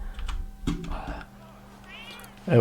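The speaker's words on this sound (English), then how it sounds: "Lili has a cat called Salt." A cat meows briefly in a Tekken 8 character reveal trailer, a short close call mixed with clicking and game sounds.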